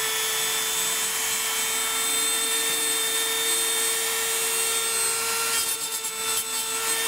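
Metal tubing gets deburred with a steady, loud grinding drone that holds a high whine throughout, roughening slightly near the end.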